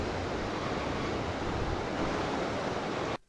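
Continuous rushing water of a flowing river near Ivybridge, steady and fairly close, with no voices, cutting off abruptly near the end.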